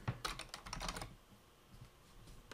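Quick bursts of typing on a computer keyboard as a workspace name is entered, a run of light close clicks that stops, then a lone faint keystroke at the end.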